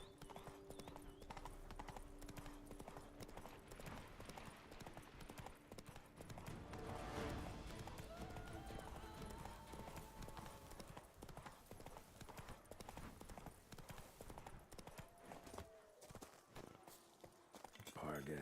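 Roach the horse galloping in The Witcher 3, steady rhythmic hoof clip-clop throughout with an occasional snort, under game music, a voice briefly speaking.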